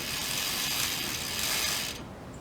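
A bicycle freehub ratchets steadily as the pedals turn backwards, a fast continuous clicking buzz close by, stopping abruptly near the end.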